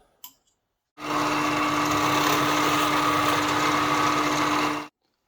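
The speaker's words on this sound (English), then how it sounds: "I insert a 4 mm drill bit, and then I know that I will be drilling 4 mm deep." A drill press with a 4 mm bit whirs steadily at high speed for about four seconds drilling a 4 mm deep hole, loud and close, starting and stopping abruptly with quiet before and after.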